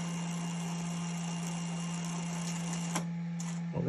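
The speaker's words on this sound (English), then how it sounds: "And we start loading the filament from the spool. We are loading until the tool head." A Sovol SV08 3D printer's multi-material unit feeds filament from the spool toward the tool head: a steady, close motor hum with a constant drone, a few sharp clicks near the end, no talking.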